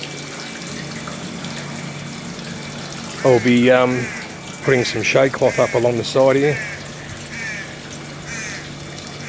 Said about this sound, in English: Just got the hose on me pumpkin, that's starting to get a bit wilted in the hot.